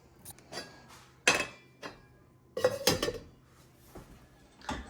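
Enchilada sauce is stirred in a kitchen pot, with a handful of close clinks and scrapes of a utensil against the metal in irregular bursts between quiet gaps.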